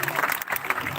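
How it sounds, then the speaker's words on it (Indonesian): Audience clapping at a live Balinese stage performance at an outdoor venue, a steady dense wash of applause lasting the whole moment, fairly close and continuous with murmuring voices mixed in. "Ya, tepuk tangan."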